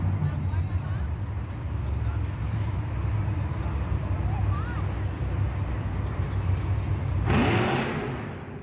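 Monster truck engine roaring steadily at a monster truck jam, a broad continuous rumble through the whole stretch that swells louder near the end, with crowd noise and voices mixed in.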